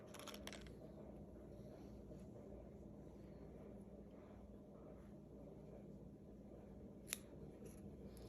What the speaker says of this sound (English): you can cut this yarn and leave a long tail.